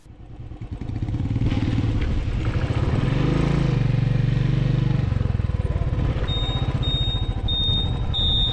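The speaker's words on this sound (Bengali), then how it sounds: "দ্বিতীয়বারের জন্য সম্পাদির বাইক আবার রাস্তায় পড়ে থাকা নুড়িকা করে স্কিড করে যায়" A Royal Enfield motorcycle on the gravel-strewn Agom-Shyok road in Ladakh thumps loudly up close, its engine swelling and holding a rough, pulsing roar with some rattling clatter over loose stones.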